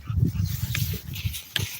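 A rescue dog, a black Lab and German Shepherd mix, makes a run of short, low whimpering and grunting vocal sounds close by, with a couple of sharper noises near the end.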